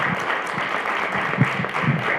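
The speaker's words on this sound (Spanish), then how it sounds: "Demos un aplauso." An audience at a neuroethics lecture applauding, a dense, steady wash of clapping from a crowd heard throughout, with no talk.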